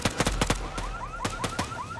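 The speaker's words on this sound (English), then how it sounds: "through to the car alarm" A car alarm blares in Overkill's Walking Dead, its rapid warbling electronic chirps looping loudly alongside sharp, punchy bursts like gunfire.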